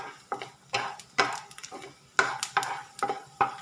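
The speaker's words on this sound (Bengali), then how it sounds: "দেখুন আমরা কীরকম আওয়াজ আসছে, বাদামের খোসাগুলো ফেটে যাচ্ছে" Peanuts dry-roasting in a pan while being stirred, shells cracking: irregular clatters and scrapes of nuts against the pan, about a dozen sharp bursts spread over a few seconds, close and fairly quiet.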